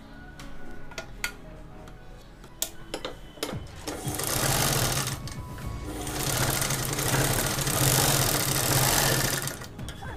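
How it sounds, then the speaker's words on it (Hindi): A sewing machine stitches the folded fabric edge of a face mask. A few single needle ticks come first, then a steady, close, loud whirring run that lasts several seconds and stops near the end. "तो सबसे पहले हम क्या करेंगे, किनारे पे फोल्ड सिलाई कर लेंगे।"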